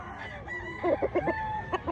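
A rooster crows in a short burst of choppy, pulsing calls at a rooster expo in Mantalungon, Barili, Cebu, moderately distant, with a quieter background hum and no talking.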